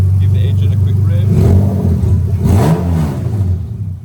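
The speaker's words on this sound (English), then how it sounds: "Give the engine a quick rev." A Toyota 2JZ-GE engine in an Altezza RS200 idles, then gets a quick rev that rises and falls, loud and close, before settling back.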